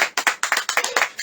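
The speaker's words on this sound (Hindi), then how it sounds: "ताली बजाएंगे" A group of worshippers at a Good Friday prayer service claps their hands in quick, steady rhythm, close and fairly loud, with no talking.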